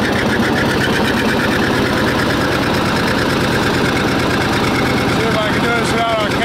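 A utility vehicle called the 820 chugs around a property with a rapid, rattling mid-pitched engine beat that stays loud and steady, with a few brief higher squeaks near the end.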